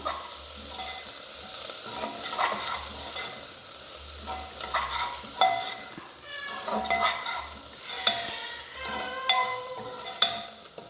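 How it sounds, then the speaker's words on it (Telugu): Sliced onions frying in oil for rasam are stirred in a pan, with a steady sizzle under repeated scraping and clinking strokes of the spoon against the pot, close and fairly loud, with no talking. "ఒకసారి ఉల్లిపాయలను కలుపుకుందాం."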